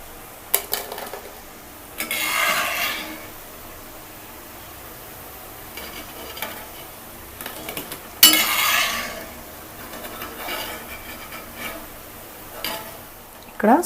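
Fried snack pieces for a Telugu honey candy sweet are lifted from a pan onto a plate after the stove is switched off, giving scattered clinks and scrapes of utensil on cookware, a few louder bursts among quieter handling.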